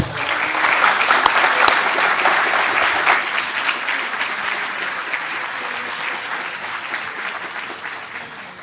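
Audience applause at a book presentation on the failure of socialism, a dense, loud burst of many hands clapping that holds steady for several seconds and then slowly thins out.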